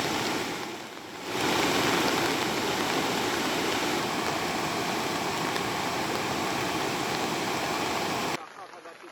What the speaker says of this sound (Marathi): मुसळधार बरसणाऱ्या पावसामुळे नदी नाल्यांना मोठा पूर आलाय